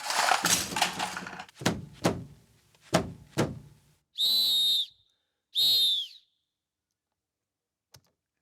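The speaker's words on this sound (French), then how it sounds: "On a enregistré des sifflets avec Thomas." Whistles recorded for the soundtrack of the animated film Minuscule, Valley of the Lost Ants: a burst of sharp clattering knocks, then two separate steady high whistle tones about a second each, followed by near silence with a faint click.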